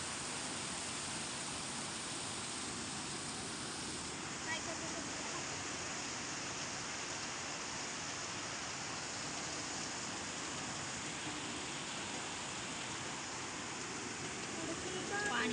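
Heavy rain pours down in a steady, dense hiss that stays loud and even throughout, with no pauses and no talking.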